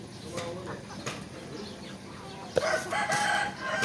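A rooster crows in a Thai farmyard where chickens are kept, the call fairly near and rising over light background noise, with a sharp click partway through and some faint chatter around it.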